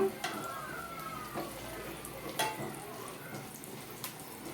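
Chopped garlic frying in hot oil for a garlic pickle gives a steady, close sizzle and crackle, broken by a few sharp clicks of stirring.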